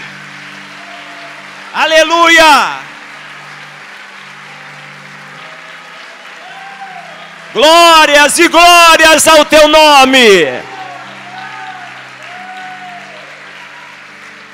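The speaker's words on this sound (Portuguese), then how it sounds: "Vamos aplaudir a Ele." Church congregation applauding in worship, a soft, continuous clapping wash running underneath a man's loud, impassioned exclamations that come in two bursts.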